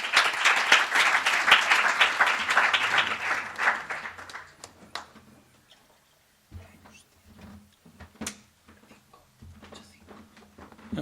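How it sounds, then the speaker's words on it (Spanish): An audience at a Ratzinger foundation event breaks into loud applause that fades away after about five seconds, then a few scattered claps and small noises follow in a quiet hall. "Un aplauso, por favor."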